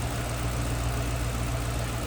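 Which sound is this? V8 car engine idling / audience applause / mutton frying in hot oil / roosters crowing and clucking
V8 car engine idling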